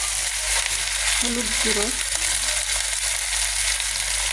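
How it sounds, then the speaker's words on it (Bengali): Ginger-garlic paste frying in a pan for a prawn curry, giving a dense, continuous sizzle with a low hum beneath it. A short voice is heard briefly over the cooking. "এখন আমি এর ভিতর দেব আদা রসুন বাটা, নেড়ে দেবো"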